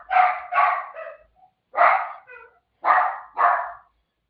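Dog barking nearby in three quick pairs of loud, sharp barks separated by brief silences, clear and alone with no talk.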